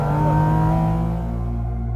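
A Porsche 718 Cayman GT4 RS engine revs loud and close, a strong harmonic flat-six note that holds, then eases off as the revs drop toward the end.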